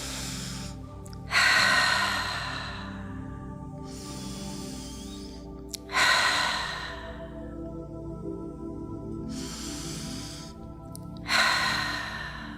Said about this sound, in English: Take 3 deep breaths in and out here.